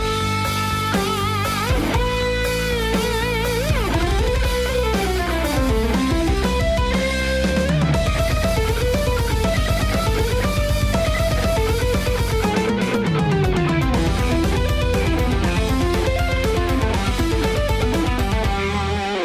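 An electric guitar plays a fast, continuous solo with rapid runs and bends, loud and sustained without any talking.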